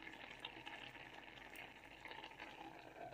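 Rice simmers in a pot on the stove, giving a faint, steady soft bubbling and hiss that continues without break, with no talking.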